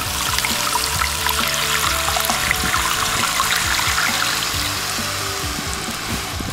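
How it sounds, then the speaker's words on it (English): Water poured steadily into a pot holding scored, marinated pernil with lime juice, a continuous close splashing rush that stays loud and even throughout. "and fill the rest of the pot with water."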